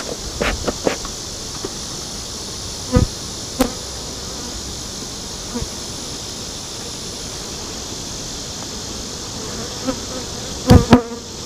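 Honeybees buzz steadily around an open beehive during an inspection, forming a dense continuous drone, with a few sharp knocks and clicks from handling the frames.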